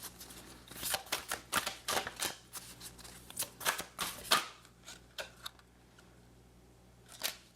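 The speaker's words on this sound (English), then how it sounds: "let me pull two cards from here" Tarot cards are pulled and slid from a deck, a close run of quick crisp flicks and shuffling snaps that thins out into a few isolated soft taps.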